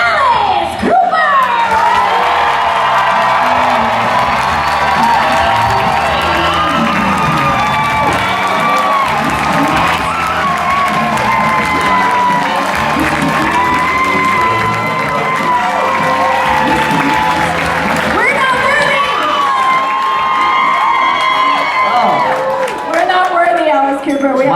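A large audience at the Spooky Empire 2016 horror convention in Orlando cheers, whoops and applauds for Alice Cooper, a loud, dense, continuous roar of clapping and shouting that holds steady throughout, with scattered voices calling out over it.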